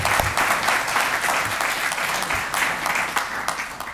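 A room full of people at a candidates endorsement meeting claps steadily, a dense and even wash of applause that holds for several seconds.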